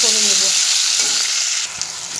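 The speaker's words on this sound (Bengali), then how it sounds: "আর রসুন দিয়ে দিলাম, গোটা রসুন। এগুলো অল্প ভাজা ভাজা করে নেব।" Whole garlic cloves and onion fry in hot oil in a pan, giving a loud, continuous bright sizzle that settles slightly near the end, with a few light stirring clicks.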